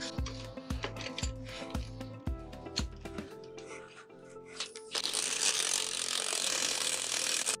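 A bolt on a Motomaster swing arm trailer jack being tightened on a pop-up trailer, with a quick run of close, rhythmic ratcheting clicks followed by metallic rattles and then a steady rushing noise.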